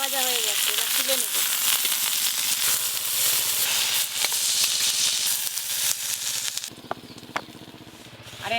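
Food fries in a pan with a loud, continuous hiss and crackle throughout. A voice speaks over the sizzle near the start, and the frying sound eases slightly toward the end.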